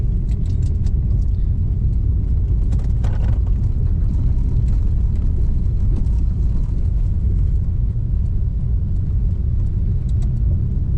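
A car climbs the Malshej Ghat road. Steady, loud low engine and tyre rumble with road noise continues without a break, and brief higher rattles and passing sounds rise over it.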